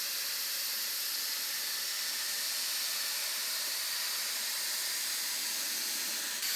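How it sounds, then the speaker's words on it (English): Rustproofing spray wand misting inside a car's rocker panel, a steady, loud, close hiss that runs unbroken from start to finish. "Put the wand in there, pull it out. You can see the mist coming out."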